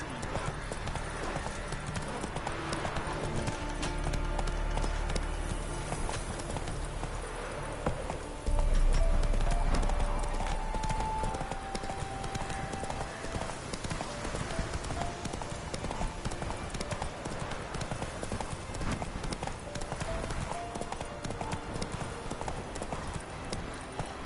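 Roach the horse trots in The Witcher video game, hooves clip-clopping in a steady rhythm over a game music bed, with a brief louder patch around the middle and a voice speaking now and then.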